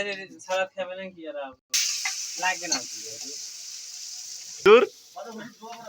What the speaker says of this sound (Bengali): এখন ডিম ফ্রাই হচ্ছে সম্পূর্ণ প্রাকৃতিক চুলায় ফ্রাই করা হবে